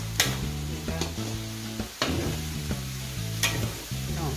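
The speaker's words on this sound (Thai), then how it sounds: "ผัดเห็ดหอมกับแครอทให้สุกก่อนนะคะ" Shiitake mushrooms and carrot are stir-fried in a pan, with a continuous close sizzle broken by several sharp spatula clacks against the metal and a low steady hum underneath; no one talks.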